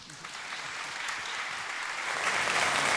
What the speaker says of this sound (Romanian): Așa că să-l aplaudăm!